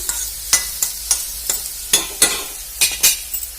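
Eggplant and cucumber chutney frying in oil in a pan, with a spoon stirring and scraping in repeated sharp strokes about every half second over a soft, steady sizzle, close and alone.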